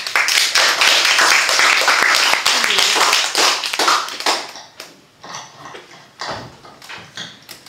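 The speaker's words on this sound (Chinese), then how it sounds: "请大家拍手。" An audience at a school graduating class's music concert claps loudly for several seconds, then the applause thins into scattered individual claps.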